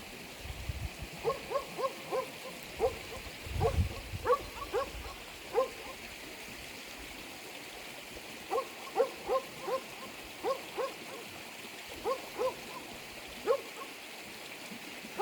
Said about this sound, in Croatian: Kako ga lepo laje kjer.